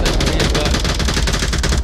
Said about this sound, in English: Laying some suppressive fire